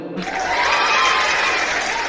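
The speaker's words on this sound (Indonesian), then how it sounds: "Tepuk tangan dulu." A small audience at an interfaith discussion on Christian and Islamic views of tolerance bursts into applause, close and steady for a couple of seconds, with a hint of chuckling among the claps.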